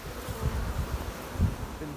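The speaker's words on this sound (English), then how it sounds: "There's bees like falling off the comb there." Honeybees buzzing on a hive comb during queen rearing, a steady low droning swarm with a couple of louder swells, close and continuous with no talking.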